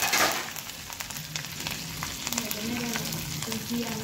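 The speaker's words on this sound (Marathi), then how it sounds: "तडकू द्यायचं आणि त्यानंतर आपण फोडणी टाकणार आहोत" Cumin, asafoetida, coriander and chili slices sizzle steadily in hot oil for a tempering for Amritsari chole, a close crackling fry with light stirring and no talk.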